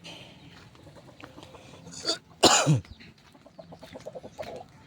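A chicken gives a sharp, loud squawking cluck burst midway, with softer clucks and faint farmyard bird chatter scattered around it.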